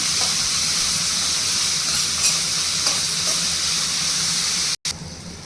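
Chopped tomatoes fry in a pan for a drumstick curry, giving a close, steady, hissing sizzle with faint stirring that runs unbroken until a brief cut near the end.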